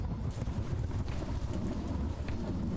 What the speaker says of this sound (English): The rain was pounding against my face so hard that it was difficult to keep my eyes open.